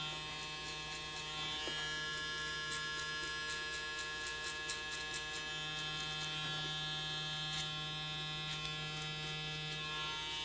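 An electric hair trimmer runs continuously while blending a haircut on coarse, curly hair, producing a faint, steady buzzing hum with occasional light clicks.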